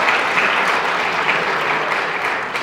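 Audience applause at an annual prize-distribution ceremony of a junior college, steady dense clapping from a crowd filling the whole short stretch at even loudness.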